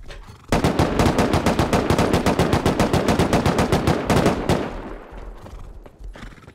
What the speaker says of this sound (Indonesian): Wah ini bisa gua main ini turret.